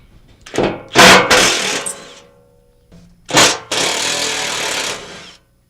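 A power impact tool backing out 12 mm bolts from an aluminum IFS skid plate on a 2005-2017 Toyota Tacoma, two loud close bursts of rattling whirr, each lasting a couple of seconds with a short gap between.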